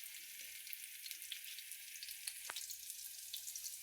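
Onion frying in a pan makes a faint, even, crackling sizzle throughout, with a single sharp tap near the middle.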